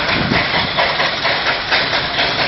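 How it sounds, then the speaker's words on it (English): A steam traction engine climbs a hill at a steam fair, chuffing and hissing close by under heavy load, with a rhythmic puffing over a continuous noisy rumble. "I can certainly hear a Colossus coming up the hill there."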